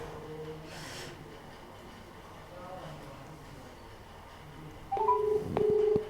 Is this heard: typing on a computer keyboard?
no